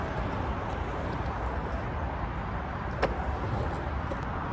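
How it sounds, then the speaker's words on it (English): Steady highway traffic beside a skatepark: a continuous broadband roar of passing vehicles that holds level throughout, with one brief click partway through. "I'm sorry about this road noise"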